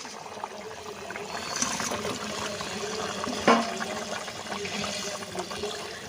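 Rohu fish pieces going into a simmering curry gravy, giving a steady soft bubbling and liquid sizzle with one brief splash partway through, close and moderately loud.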